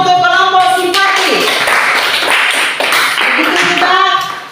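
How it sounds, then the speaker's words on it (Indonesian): A classroom of students applauds a student discussion group, a dense burst of clapping lasting about three seconds, with a voice speaking just before and after it. "Tepuk tangan untuk kelompok simpati"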